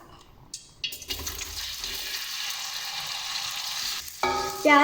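Onions dropped into about a cup of hot oil for chicken chana pulao, a sudden strong hiss that settles into steady sizzling, ending with a brief clatter.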